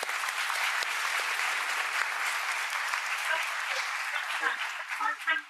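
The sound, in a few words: applause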